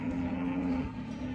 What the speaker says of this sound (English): The cows are really excited because today is the day we are putting them outside on the pasture.